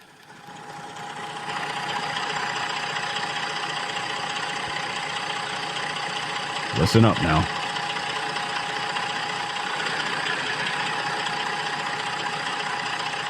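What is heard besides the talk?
diesel engine idling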